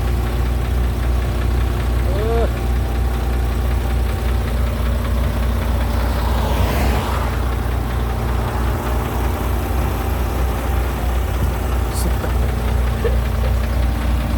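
Nissan diesel six-wheel long-nose truck, an old classic with big tyres, idling steadily nearby with a constant low engine drone and a faint knock throughout.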